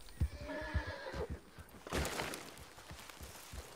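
A horse in the video game Red Dead Redemption whinnies loudly over a few clip-clopping hoofbeats, then gives a shorter snort-like neigh.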